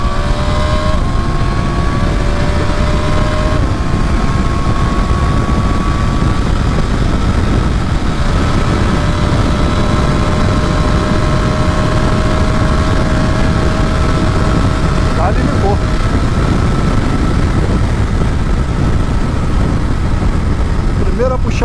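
A 2024 Triumph Tiger 900 GT Pro engine whines at high revs for a long stretch at top speed, its pitch climbing steadily between gear shifts, with constant wind and road rumble.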